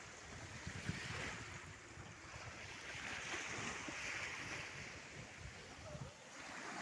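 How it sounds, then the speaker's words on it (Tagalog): Seaside surf rolls and hisses continuously, with heavy wind buffeting the microphone, forming a steady, broad roar at low level with no clear speech over it. "Yan yung dagat ngayon araw."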